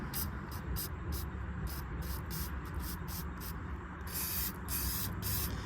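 A steady hiss of aerosol spray, used while bleeding car brakes, comes in a run of short, rapid pulses, bursting louder near the end over a constant low background rumble.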